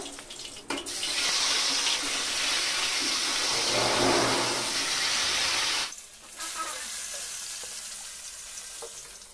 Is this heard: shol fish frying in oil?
yes